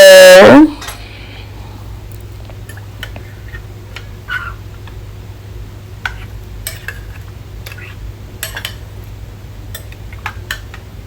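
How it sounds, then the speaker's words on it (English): A spoon stirs oxtails and rice in a pot after a brief loud burst at the start, leaving sparse, faint scrapes and clinks of utensil against pot over a low steady hum. "So we're going to give it a good stir."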